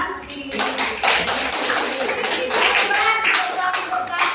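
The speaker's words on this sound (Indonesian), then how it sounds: "Tepuk tangan untuk Evan dan kelompok Santi." A classroom of children clapping their hands together, a busy, steady patter of many small hands close by, with some chatter underneath.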